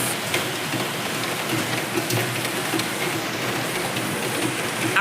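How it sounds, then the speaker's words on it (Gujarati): Steady rain patters down continuously, a dense hiss of drops falling on surfaces nearby, with no voices. "આખી રાત વરસાદ આવ્યો છે ને અત્યારે બી ચાલુ જ છે વરસાદ"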